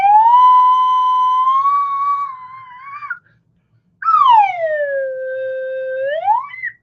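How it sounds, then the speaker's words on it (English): A slide whistle sounds two long tones: the first holds steady and wavers upward before cutting off, and after a short pause the second glides down, levels out, then sweeps back up, loud and clear with nothing else heard. "So when I pull the slide whistle in,"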